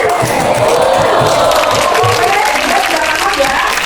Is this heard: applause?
yes